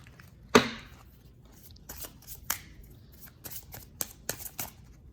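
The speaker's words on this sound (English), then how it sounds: "I'm going to pull 2 cards from here." Tarot cards shuffled and drawn from a deck during a card reading: a sharp riffle-like burst near the start, then scattered soft slaps and flicks of cards being handled and pulled, close and quiet with no talk.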